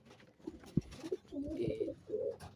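Pigeons and their young cooing softly in a coop, low muffled coos and rustling at close range, a few brief bursts spread over a couple of seconds.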